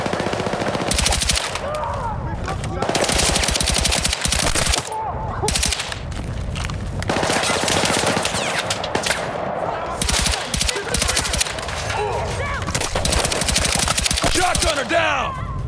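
Battlefield 6 night raid combat with sustained automatic rifle fire, rapid continuous bursts separated by brief gaps, loud and close, with shouted squad callouts mixed in.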